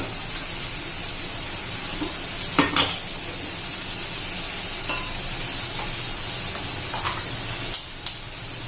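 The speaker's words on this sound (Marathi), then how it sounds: "चांगला मसाला दोन चार मिनटं परतून घ्यायचा आपल्याला" Tomato masala sizzles steadily in a pan while a spoon stirs it, with occasional sharp scrapes and clinks of the utensil against the pan and no talk.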